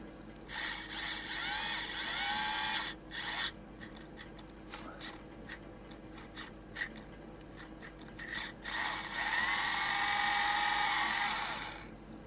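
A high-pitched power drill whirs in repeated bursts, grinding and rasping against material, with brief pauses between runs.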